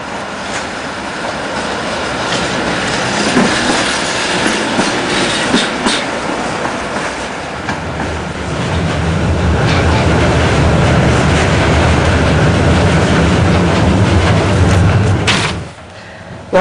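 A tram on a pedestrian street in Gorzów, Poland, rumbles and clatters past nearby, its wheels clacking steadily and growing heavier before the sound suddenly drops away at the end.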